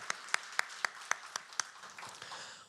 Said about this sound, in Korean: 우리 환영과 축복의 박수하도록 하겠습니다.